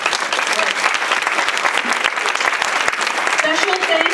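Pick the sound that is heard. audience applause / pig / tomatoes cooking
audience applause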